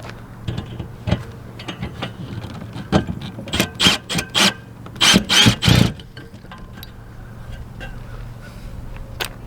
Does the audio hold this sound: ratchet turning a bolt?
yes